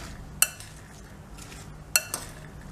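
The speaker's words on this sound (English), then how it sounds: "Now mix all the fruits together." Cut fruit is tossed together for fruit chaat, a soft mixing rustle broken by a few sharp clinks of a spoon against a bowl.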